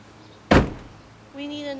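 A Honda Odyssey sliding door shuts on its own with a single sharp thud and a short decaying rattle, followed by a steady tonal hum from the vehicle.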